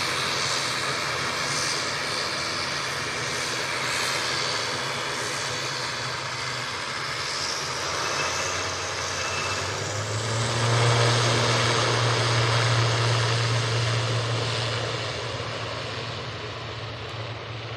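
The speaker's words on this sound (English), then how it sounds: "Aer Lingus, prop, ready to roll" An Aer Lingus propeller airliner takes off at Manchester Airport, its engines giving a sustained droning roar with a low propeller hum that swells and strengthens toward the end before easing off.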